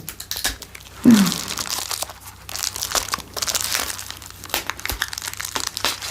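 A small boxed figurine is wrapped in paper, with close, quiet crinkling and rustling and a few sharper crunching folds, and no talking.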